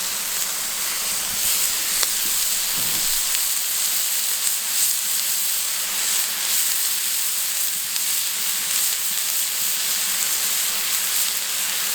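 Lamb shawarma kebab burgers sizzle on a hot BBQ plancha, a steady bright hiss and crackle running throughout at close range, with a few faint knocks and no talk.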